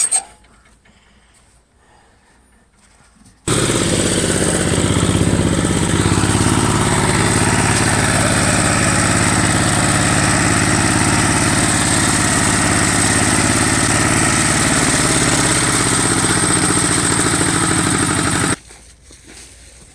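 A machine hilling potato rows with combined disc hillers runs close by, its engine starting abruptly into a loud, steady mid-pitched drone that holds for about fifteen seconds before cutting off.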